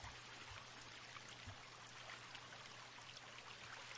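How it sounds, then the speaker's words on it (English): A waterfall in the survival video game The Forest flows with a faint, steady rushing hiss of running water, continuous and distant-sounding, with no voices. "That's a nice little waterfall."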